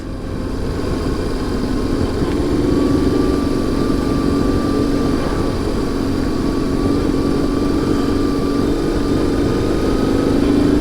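Steady engine drone of a BMW R1100GS motorcycle riding a winter mountain road with switchbacks in a low gear, continuous and loud with wind noise, no voices.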